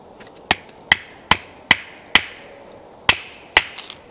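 A knife with a scandi grind and tapered tang splits an inch-and-a-half-thick piece of wood for a campfire, about eight sharp, close woody thwacks at an irregular, steady pace with no talking.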